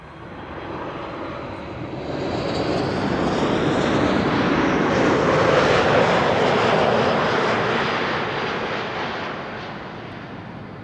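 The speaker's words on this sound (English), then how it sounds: "Next up, Norwegian, Max 8 737, Flight 1256," A Norwegian Boeing 737 MAX 8 arrives at Amsterdam Schiphol from Oslo, its loud broadband jet roar swelling, peaking mid-pass and fading gradually as it goes by.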